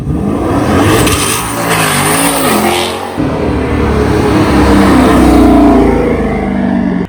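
A Dodge Charger engine revs hard and roars continuously, loud and close, with rising and falling pitch as it accelerates.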